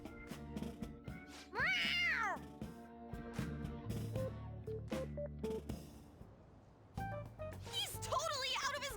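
A cat meows in a Persona 5 Royal game scene, a rising and falling call near the two-second mark, with game music and character dialogue continuing around it and a few more cat-like cries toward the end.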